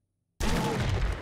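Heavy gunfire from big guns in the 7 Days to Die video game, starting abruptly after a brief silence and continuing as a dense, loud burst of rapid shots.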